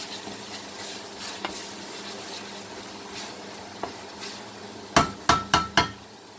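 Chopped tomatoes cook in a chicken curry pan with a low sizzle and occasional stirring scrapes, then four sharp metallic taps of a spoon against the pan in quick succession at the end, close up and without talking.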